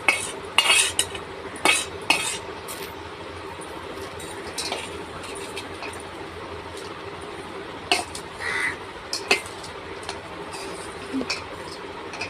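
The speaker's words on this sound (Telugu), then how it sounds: "ఇంగువ వేసుకుని కరివేపాకు, కొత్తిమీర వేసుకుని దించేసుకుందాం. తాలింపు వేసి కలిపేసుకుందాము" A metal spoon scrapes and clinks against a pot as a tempering of asafoetida, curry leaves and coriander is stirred in, sharp intermittent clatters over a quiet room with an occasional crow cawing faintly outside.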